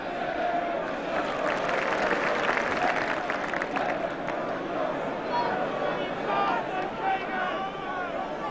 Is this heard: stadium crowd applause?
yes